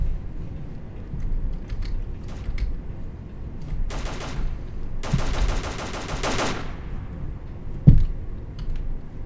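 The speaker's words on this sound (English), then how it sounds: "Who are we shooting at, bro?" Gunfire in the shooter game S.T.A.L.K.E.R. Call of Pripyat comes in two rapid automatic bursts, sharp and fairly close, over a low ambient background with no talking.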